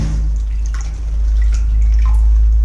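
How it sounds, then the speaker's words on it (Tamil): Water poured from above onto a foam wall tile, light splashing and dripping trickles scattered over a strong, steady low hum, fairly close and with no speech. "மேல தண்ணி ஊற்றுறேன் பாருங்க"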